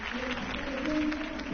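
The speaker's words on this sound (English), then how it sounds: "could have heard that applause" A crowd applauds after a campaign speech, with a short burst of even, moderate clapping and a low murmur underneath.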